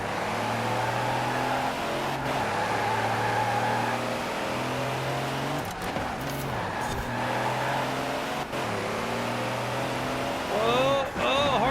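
A car engine revs and drones steadily while racing in Forza Horizon 4, the pitch stepping up and down through gear changes, with thumps of contact and a rising whine near the end.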